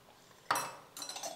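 A metal spoon clinks twice against a cooking pan as one or two spoonfuls of oil go in for raw mango rice. The clinks are quiet and close, with no talk.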